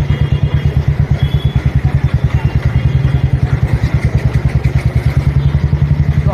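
At a petrol pump, a motorcycle engine idles close by with a rapid, steady thumping pulse and low mechanical clatter, continuous throughout with no talk.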